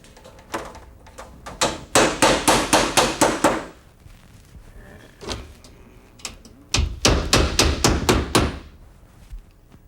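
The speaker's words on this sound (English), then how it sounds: "Now I would drive in this nail, just tacking it also." A hammer drives and tacks nails while installing a top piece during a brick installation: two quick runs of loud, rapid, evenly spaced blows, separated by a few isolated knocks, close and clear with no talking.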